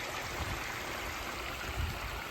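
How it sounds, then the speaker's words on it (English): Water runs steadily down the spillways of a pondless waterfall with planted rock edges, a continuous soft rushing and splashing that stays even throughout, close by and moderately loud. "the pondless waterfall basin down here"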